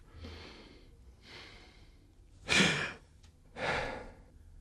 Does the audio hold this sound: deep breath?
yes